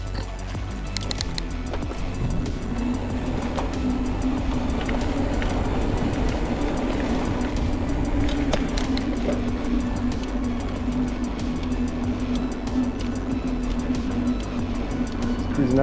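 A car cruising along a residential lane, with steady road and engine rumble, a constant low drone and tire noise throughout, close and continuous.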